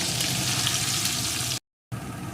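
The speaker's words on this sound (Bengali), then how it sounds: "এখন ভালো করে ভেজে নেব" Potatoes seasoned with salt and turmeric fry in hot oil with a loud, continuous sizzle. The sound cuts out briefly near the end, then the sizzling resumes.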